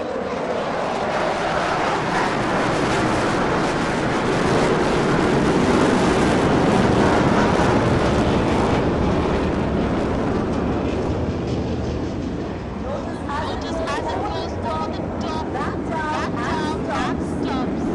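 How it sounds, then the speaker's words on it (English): A Rafale fighter jet roars loudly and continuously overhead at an Indian Air Force 90th anniversary flypast in Chandigarh, a dense sustained engine rush that stays near full strength throughout with broadband noise. "The aircraft now pulling up."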